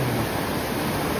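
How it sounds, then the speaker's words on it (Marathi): Floodwater swollen by heavy monsoon rain in the Konkan rushes in a steady, loud, dense roar with no break or voices over it. "एवढा पाऊस पडला की पूर आलाय एकदम बघा जोरदार पावसाचं पाणी बघा किती जोरदार"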